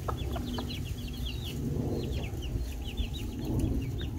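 A mother hen clucks low and steadily while her chicks peep in rapid, high chirps throughout, all close and continuous over a rumbling background.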